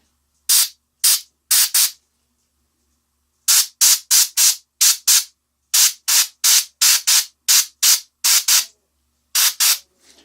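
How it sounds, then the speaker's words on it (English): Short, sharp bursts of an airbrush spraying paint onto a miniature turtle tank model, hissing in quick clusters of two to four with brief silences between, close and loud. "I'm going to spray up under that piece of armor again."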